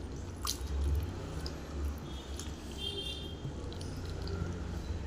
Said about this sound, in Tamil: பாருங்கள், கூழ் நம்ம கட்டிட்டு இல்லாமல் சூப்பராக கரைச்சிட்டோம்.